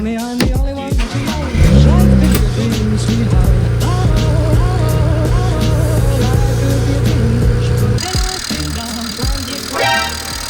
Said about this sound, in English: Fair bit of noise coming from the engine